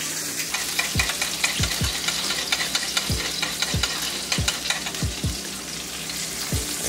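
Salmon pan-searing in a teriyaki garlic butter glaze sizzles loudly and steadily, with frequent sharp pops and spatters scattered throughout.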